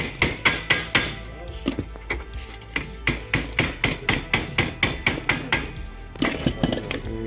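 Rapid, evenly spaced metallic hammer strikes on a powered exosuit armor plate ring out close up, about three blows per second, with a short pause before the pounding resumes.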